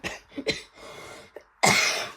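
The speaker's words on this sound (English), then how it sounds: "Sorry about my cough." A person coughs and clears their throat in a short indoor burst: a couple of quick coughs, a brief pause, then one louder, harsher cough that trails off.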